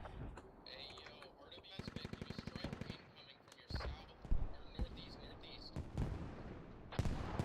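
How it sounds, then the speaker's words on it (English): Artillery fire in the military video game Squad: heavy booming impacts, some near and some distant, mixed with rapid bursts of automatic gunfire and low voices in the background. "US artillery coming in here"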